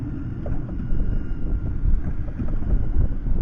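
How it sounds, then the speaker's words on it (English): An electric trolling motor drives a small fishing boat on inshore Gulf water off Panama City, a low, steady hum and churn with wind buffeting the microphone throughout. "I'll let the trolling motor get me sorted out"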